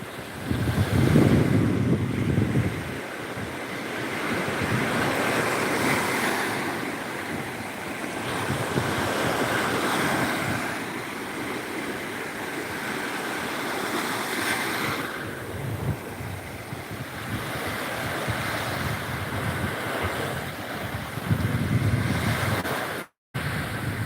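Surf breaks along the shore at Pak Phanang beach in Thailand, with swells rising and falling into a steady roar and heavy wind rumble on the microphone; the sound briefly drops out near the end.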